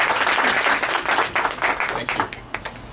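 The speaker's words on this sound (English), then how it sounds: "I think she deserves a big round of applause" Applause from an audience at a conference event, a dense burst of clapping that thins out and fades over a few seconds, with scattered individual claps at the end.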